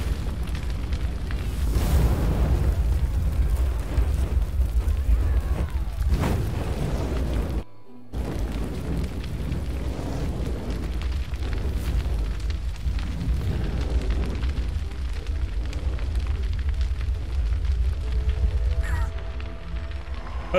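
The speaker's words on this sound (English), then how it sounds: "Starts the forest fire." A forest fire burns in Assassin's Creed Valhalla: a dense, continuous roaring crackle with rumbling bursts, briefly cutting out for a moment before resuming just as loud.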